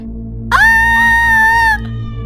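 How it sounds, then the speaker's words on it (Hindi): A woman screams loudly in one sustained, piercing cry lasting about a second, alone over a faint steady background hum. "ये देखकर वो जोर से चिल्लाई।"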